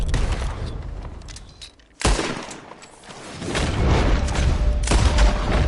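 Gunfire in Red Dead Redemption 2: a sharp loud blast followed by a sustained rolling barrage of shots and booms, dense and continuous, with no talk over it.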